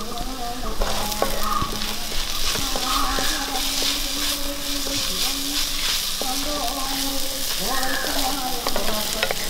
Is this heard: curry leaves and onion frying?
yes